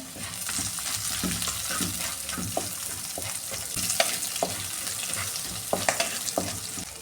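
Green chillies hit hot oil for a mackerel curry, setting off a steady, close sizzle with scattered sharp pops and a few spoon scrapes across the pan, with no talking.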